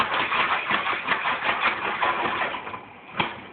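Covered pan of oiled popcorn kernels shaken steadily, a dense continuous rattling hiss with rhythmic surges and one sharper jolt near the end.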